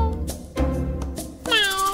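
A cat meows loudly several times in a row, the last call a long, rising, tonal wail, close and clear with no talking over it.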